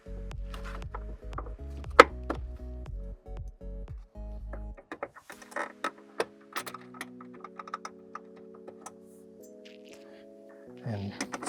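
A metal hold-down bracket for the 12V battery in a GMC Hummer EV is fitted and tightened: scattered clicks, taps and ratcheting snaps sound up close, with a steady hum underneath and a sharper clunk near the start.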